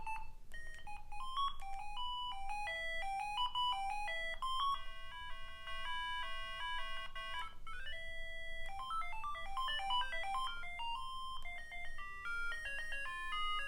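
A Siemens S45 handset plays a polyphonic ring melody. Busy electronic notes run in lively phrases with a short held tone midway, clear and continuous throughout.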